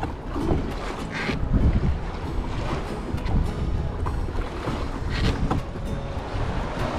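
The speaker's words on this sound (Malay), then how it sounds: "angin pun kuat aku nak main dekat tengah pun risau juga" Strong wind roars and buffets the microphone steadily at sea during a solo kayak fishing trip, with a dense rumbling wash of air and water throughout.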